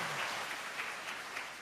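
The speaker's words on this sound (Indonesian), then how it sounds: "Tepuk tangan, ya." Applause from a church congregation at a Mass with bishops at Stella Maris, Pluit, steady clapping filling the space, fairly faint and distant, with no voices over it.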